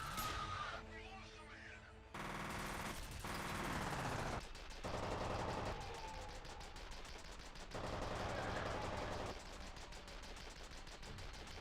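Turret machine gun firing in slow motion in the video game F.E.A.R., long sustained bursts of heavy, rapid rounds in several stretches, loud and close, with brief pauses between.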